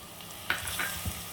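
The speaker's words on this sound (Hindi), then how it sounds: "इस तरह से आप घुमाते रहिए इसे स्पैचुला की हेल्प से।" A spatula scrapes and stirs Sindhi-style cauliflower and potato in a hot pan, with brief scraping strokes over a soft, continuous sizzle of frying.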